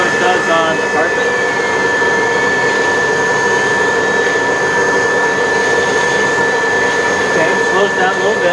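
A Kenmore hand turbo tool on a vacuum cleaner runs steadily across carpet, giving a loud continuous motor whine with a high tonal hum and dense brushing noise throughout, with no talk.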